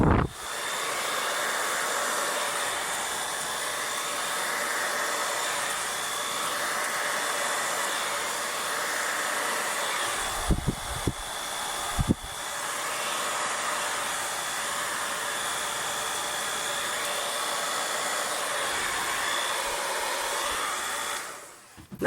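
A hair dryer blows steadily across a fluid art paint pour, a loud continuous airy whoosh lasting throughout, briefly interrupted twice by short gaps and bumps before resuming and then cutting off at the end.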